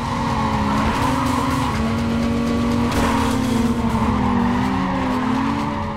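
Race cars, including a Mazda RX-8, roar at steady high revs in NFS Carbon, engine tones wavering and overlapping as they run close together, with continuous tyre skid and squeal throughout.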